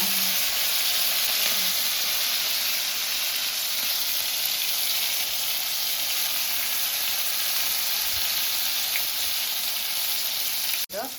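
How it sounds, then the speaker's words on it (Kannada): Buthai fish coated in masala sizzles steadily on a hot iron tawa, a close, even frying hiss that holds for the whole stretch with no one speaking. "ಫ್ರೈ ಆಗ್ತಾ ಉಂಟು."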